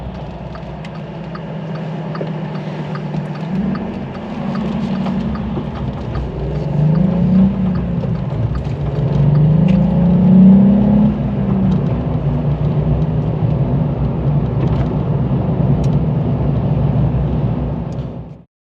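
A VW Up GTI drives along an evening road, with a steady engine hum and tyre rumble that rise briefly as it picks up speed. The interior drone is loud and continuous and no one talks.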